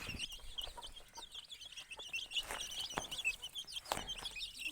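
Chicks peep and cluck steadily in a busy, high-pitched chorus while pecking at and carrying off onion, with occasional soft scratching and pecking sounds nearby.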